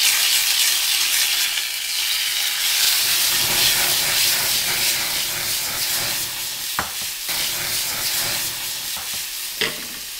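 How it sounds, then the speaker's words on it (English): Salmon searing in a hot pan with garlic, a loud steady hiss and sizzle up close, interrupted by a couple of sharp clinks from a utensil. "And now I'm going to sear my salmon."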